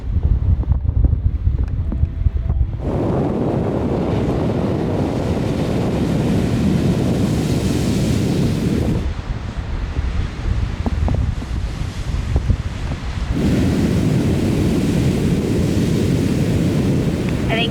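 Intense ocean waves pound the raw New Zealand west coast, a loud continuous roar of surf with heavy wind buffeting the microphone, swelling and easing in long surges.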